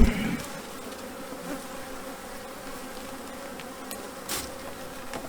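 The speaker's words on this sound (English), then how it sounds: "I can tell from this colony, probably because they haven't yet got a queen, they do actually sound slightly different" A queenless honeybee colony hums steadily inside an open hive, a continuous close buzzing of many bees with no talking.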